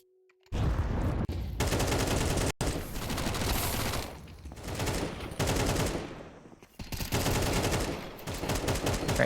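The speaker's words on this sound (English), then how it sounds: "Great shots from Hanka." Gunfire rings out during a competitive Counter-Strike match, with loud rapid bursts of automatic fire repeating in several long volleys separated by brief pauses.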